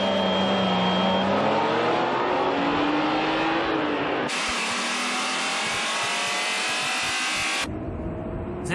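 Honda NSX and other supercars in a 0-400 m drag race, engines roaring and climbing through gears in steady pulls with sharp shifts, loud and continuous, recorded from inside and alongside the car.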